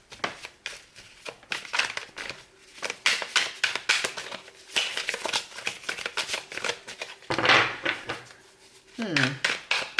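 Tarot cards are shuffled in repeated quick riffles, crisp papery flutters close by, with a person talking between and over the shuffles.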